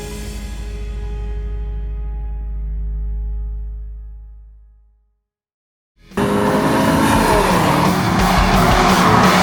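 A Chevrolet Impala 2.5 engine hums steadily on a country road then fades to near silence, followed by a loud, rough burst of engine and road noise as driving resumes.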